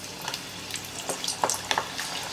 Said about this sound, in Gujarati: હવે આપણે મુઠિયાને તળી લઈએ